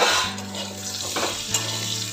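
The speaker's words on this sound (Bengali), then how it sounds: "আলুগুলো আমি চাপা দিয়ে দিয়ে ভাজছি" Potatoes fry in a pan with a little oil while being pressed down, producing a close, steady sizzle with soft scraping and stirring.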